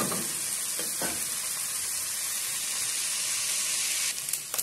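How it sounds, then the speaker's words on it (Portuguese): Rice sizzles and crackles steadily as it sautés in a hot pan, a close, continuous frying hiss with a few stirring scrapes near the end. "Deixa refogar aqui um pouquinho."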